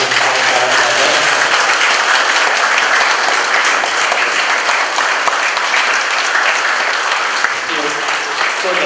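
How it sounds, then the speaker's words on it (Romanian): Sustained, loud applause from classmates, parents and teachers at an eighth-grade end-of-school-year ceremony in Giarmata, honoring a fellow student; dense clapping fills the space steadily for about nine seconds, with faint voices underneath. "să-l aplaudăm și să-i spunem cât de mult îl iubim pe Noris"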